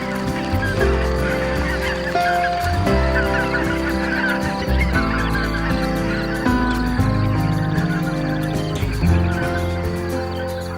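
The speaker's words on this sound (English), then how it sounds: "The atmosphere is dominated by the calls of the grey-lag geese." Greylag geese call in a dense, continuous chorus of overlapping honks, loud and close, with no voices over the flock.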